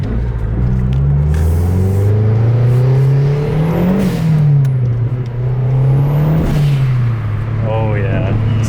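Mazdaspeed 3 fitted with a TurboSmart blow off valve accelerating from inside the car, with a loud droning engine rising and falling through shifts, whooshing turbo noise, and voices talking over it.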